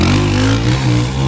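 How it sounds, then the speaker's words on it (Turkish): A worn-out Honda CG motorcycle engine revs loudly up close, a rough, clattering mid-pitched drone that rises and dips slightly over a short burst, with no talk. "motor sesi ne lan böyle?"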